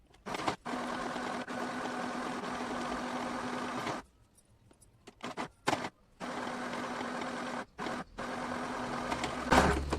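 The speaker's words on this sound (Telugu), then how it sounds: "ఇలా డబుల్ ఫోల్డ్ చేసి కింద ఇటు అటు ఒక స్టిచ్ చేసేసుకోండి" A sewing machine stitches a cotton salwar top, whirring steadily at close range in long runs broken by short pauses and quick stop-start bursts.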